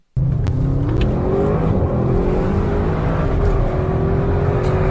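A biturbo car with ceramic brakes pulls hard, its engine note climbing in a loud, sustained whine and roar heard from close inside or beside the car.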